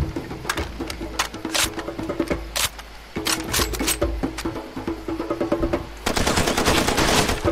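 Gunfire in a Far Cry 2 ambush: rapid, loud bursts of automatic fire rattle in clusters with brief pauses, ending in a sustained heavy volley, with no talking.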